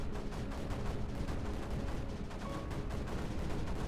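Mortars fire repeatedly in the strategy game Creeper World 4, a steady stream of dense, rapid thumps and bursts layered over constant loud game noise with no pauses.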